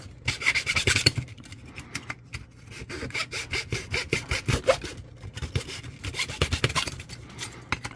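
A hand saw cuts through a thick piece of plastic in a model-building workshop, giving steady back-and-forth rasping strokes in a quick, irregular rhythm, close and clear with no talking.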